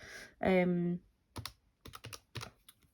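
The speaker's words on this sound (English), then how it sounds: "No idea why I used a calculator to do that" Calculator buttons pressed in a quick run of about half a dozen light clicks after a brief voice. The taps are close and distinct, with short gaps between them.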